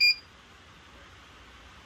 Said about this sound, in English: what you heard that beep was after it sets for a little bit and you change something, it automatically locks it in